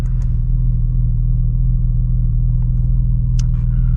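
A 2024 Porsche Cayman GTS with its 4.0 engine drones loud and close from inside the car. The deep, steady engine rumble holds throughout with no talking.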